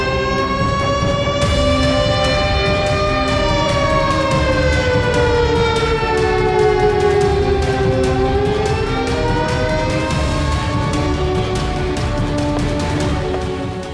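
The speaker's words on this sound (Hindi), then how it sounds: "ये सायरन की आवाज सब ठीक है ना?" A loud, steady siren wails close by for the whole stretch, its pitch rising and falling in long, slow sweeps, with no talk over it.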